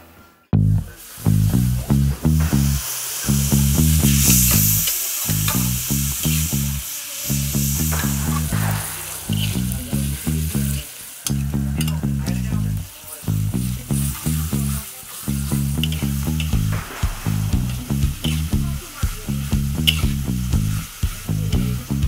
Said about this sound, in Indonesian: Setelah komplit bumbu dan bahannya, bisa langsung ditumis yo.